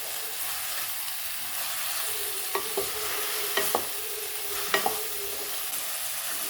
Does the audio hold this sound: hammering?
no